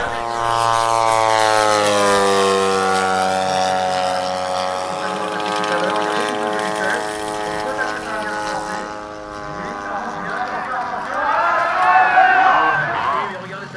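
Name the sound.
model aircraft with 3W 120 cc engine flying and landing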